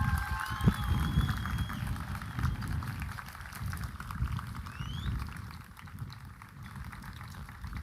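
An audience at a Marlborough High School class of 2023 graduation ceremony applauds graduates' families, a dense, sustained wash of clapping heard from within a large crowd at moderate volume, with no speech over it.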